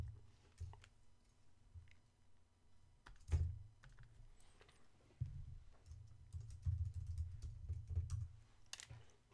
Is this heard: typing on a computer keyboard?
yes